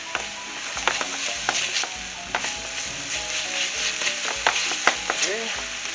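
Garlic and chopped onions fry in a pan with a steady bright sizzle, punctuated by repeated scrapes and clicks of a spoon stirring, close and fairly loud with no talking.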